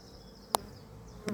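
A soft, steady hum of honey bees buzzing close by at an open hive as a frame is drawn out, broken by a couple of sharp clicks or taps.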